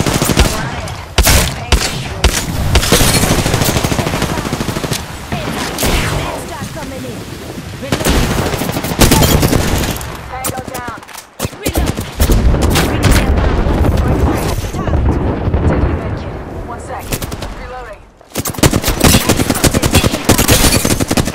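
Video game gunfire hammers almost without pause through a long firefight: rapid automatic bursts, heavy shots and booming impacts, loud and close, with brief lulls and a few sharp gaps. Voices talk underneath at times.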